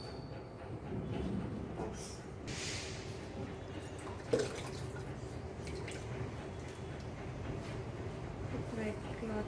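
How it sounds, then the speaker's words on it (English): Water runs steadily into a fish pot as it is refilled during cleaning: a continuous close splashing hiss, with a brief louder drip or knock partway through. "maybe we can fill some more water"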